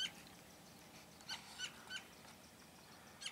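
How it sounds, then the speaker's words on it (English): A bird perched on a cactus in the Arizona desert gives short, sharp squawking calls in a quick sequence of about four to five bursts, fairly close, over a quiet background. "a bird is chirping like crazy"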